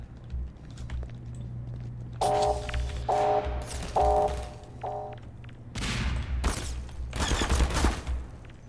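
Gunfire in Half-Life 2 plays as several bursts of rapid shots mixed with mechanical clanks and reload sounds over a steady low game hum, getting denser and louder toward the end.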